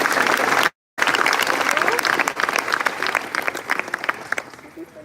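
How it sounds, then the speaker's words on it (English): An audience applauds at an opening ceremony for the National Hispanic Institute's Texas event at the University of St. Thomas, loud and dense clapping that cuts out for a moment near the start, then continues and slowly thins as it goes on. "Give yourselves a round of applause."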